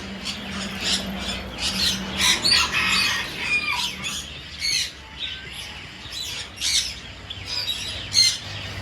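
Caged birds, including finches, squawk and chirp in quick, irregular bursts close by, with sharp shrill calls overlapping against a quiet indoor background.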